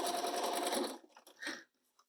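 A sewing machine hums steadily for about a second while sewing a gentle curved seam in quilt block fabric, then stops, leaving a few faint handling rustles in near silence.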